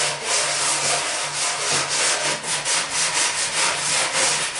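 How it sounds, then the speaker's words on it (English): An 80-grit sanding block rubs back and forth over a painted piece being roughed up before chalk-based paint, a close, steady rhythmic scraping with regular strokes throughout. "we're going to use our blue one, and we're going to come in and we're going to sand all over our piece"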